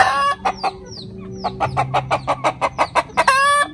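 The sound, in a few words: Darag hen clucking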